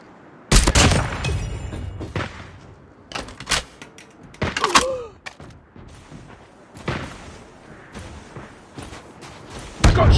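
Gunfire in the mobile video game Call of Duty Mobile with sniper rifles: several sharp, loud shots spaced irregularly across the stretch, with game effects between them and little talk.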